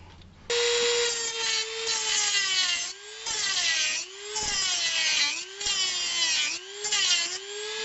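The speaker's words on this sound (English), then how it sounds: "Just a little grinding wheel." A small grinding wheel cuts off protruding bolt posts on a championship belt. It makes a loud, close, high whine in about six bursts, and the pitch sags and recovers as the wheel bites and is lifted between cuts.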